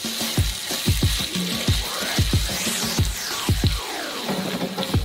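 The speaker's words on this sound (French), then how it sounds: "On met tout ça dans le wok. Nos nouilles aux œufs et on remue une dernière fois." Egg noodles and sauce sizzle in a hot wok while being stirred, a steady frying hiss punctuated by repeated scraping, clanking strokes of the utensil, close and fairly loud.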